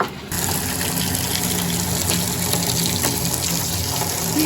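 Water running steadily from a hose or tap to fill a cattle trough on a farm, a constant close splashing rush that starts abruptly and continues evenly with no talking.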